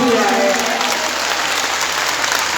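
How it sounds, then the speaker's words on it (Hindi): An audience at a Khatu Shyam jagran in a grain market bursts into dense, loud, sustained clapping that fills the space. "सबसे बड़ी ताली बाबा श्याम के लिए बजा दो यार"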